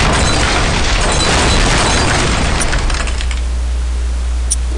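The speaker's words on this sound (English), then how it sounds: "Maybe hit some more TNT over here. Detonate." A TNT explosion in a video game booms as a dense, noisy burst that rumbles for several seconds before thinning out into a low lingering hum.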